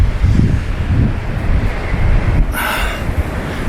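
Loud, blustery wind buffeting the microphone in low rumbling gusts on a misty, cloudy mountain summit in the Bieszczady, with a brief airy rush partway through; no voices.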